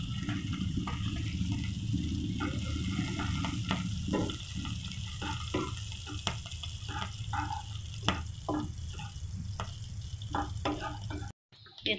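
Cumin seeds and green chilies frying in hot oil while preparing sabudana khichdi, a steady close sizzle with scattered stirring clicks and scrapes running throughout, no voices, cutting out briefly near the end.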